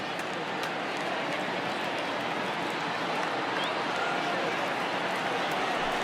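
Cheering crowd in MLB The Show 20, rising to its feet as the home team faces a final strike in a Rays versus Blue Jays game; steady, dense broadband crowd roar sustained throughout at an even level.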